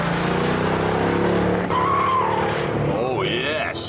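A Mercedes-AMG driven hard, with a steady loud engine roar and tire squeal as it corners, the pitch shifting near the end.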